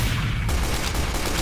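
Rapid gunfire in Team Fortress 2, a dense burst of shots running continuously and loudly through the whole moment with no voices.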